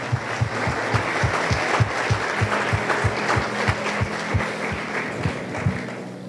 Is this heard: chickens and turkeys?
no